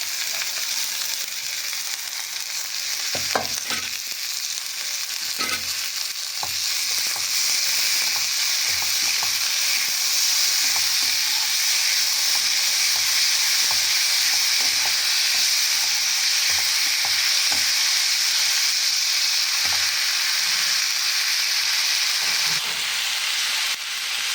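Chopped green chili and tomato fry in an oily pan with a loud, steady sizzle that runs throughout, broken by occasional clicks and scrapes of stirring.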